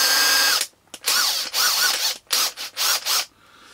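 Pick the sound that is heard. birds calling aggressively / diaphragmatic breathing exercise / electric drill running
electric drill running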